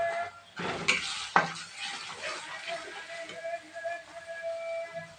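Ground spices of turmeric, cumin, coriander and Kashmiri chilli sautéed in oil in a pan, a soft low sizzle with a couple of sharp spoon clinks against the metal near the start.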